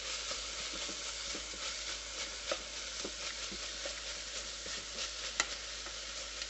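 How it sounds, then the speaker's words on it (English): Food sautéing in an electric pressure cooker on its sauté setting gives a steady, low sizzle with soft stirring clicks and scrapes throughout, faint and without talk. "the saute feature is working nice"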